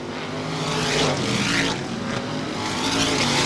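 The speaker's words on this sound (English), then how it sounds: "There are 2 laps remaining in the 22nd annual Star Classic, and Dick Batchelor will see the white flag" Race cars roar past on an oval track at the Star Classic, an ISMA race in 1988, with engine noise swelling and fading as cars pass in a dense, loud wash and no talk.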